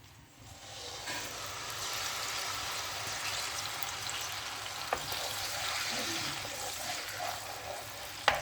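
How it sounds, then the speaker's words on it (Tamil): Blended chili paste fries in hot oil in a pan for a sambal udang, giving a steady broadband sizzle that swells in the first second and holds at an even level, with a few faint clicks and stirs and no talking. "இந்த பிளெண்ட் பண்ண சில்லிலாம் முதல்ல நம்ம போட்டுக்கலாம்."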